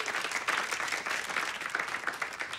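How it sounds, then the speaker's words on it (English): A stand-up comedy show audience claps in a dense, even burst of applause that holds steady throughout, with no talking over it. "give yourselves a round of applause for coming out here"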